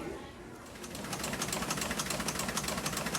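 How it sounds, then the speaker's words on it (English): Historic newspaper printing press at the Vineyard Gazette offices in Edgartown running off the paper, a fast steady mechanical clatter that builds after a soft start, fairly quiet and continuous. "That's the sound of the historic press in the Vineyard Gazette offices in Edgartown printing the paper."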